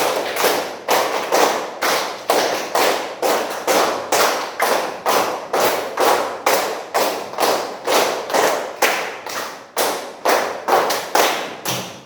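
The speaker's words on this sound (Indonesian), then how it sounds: "Tepuk 1, tepuk 2, tepuk 3, tepuk 4, tepuk 5 kali 5" A class of students claps in a counted pattern in an Indonesian classroom, a long steady run of loud, evenly spaced group claps with almost no talk.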